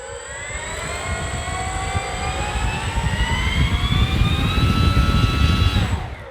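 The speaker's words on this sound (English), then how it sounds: "I just wanna do a quick test of the throttle" The electric motor of a Dynam Fw 190 RC plane whines loudly up close during a throttle test, its pitch rising steadily as it spools up and then cutting off sharply, with propeller wash roaring underneath.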